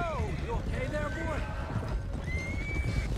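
A horse in Red Dead Redemption 2 whinnies loudly in a few wavering cries amid galloping hoofbeats, close and busy, with speech overlapping the sounds.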